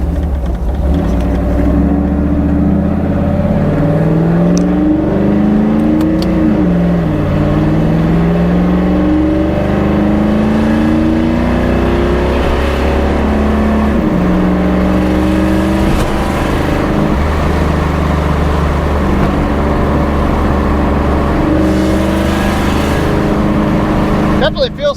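A 3rd-gen Camaro engine fitted with a new Hughes 3000 stall torque converter, its loud steady drone rising and falling in pitch through several revs and gear changes, with a voice talking over it.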